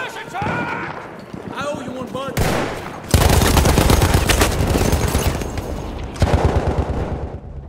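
Machine-gun fire rattles in Battlefield 1 as rapid, loud bursts of shots pile over shouting voices and battlefield din, growing denser and more sustained midway.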